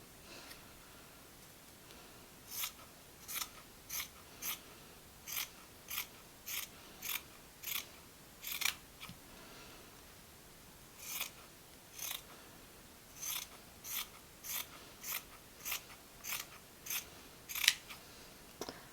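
Scissors snip an oversized T-shirt into 1 cm strips, a steady series of about twenty crisp, close cuts in an even rhythm with a short pause midway.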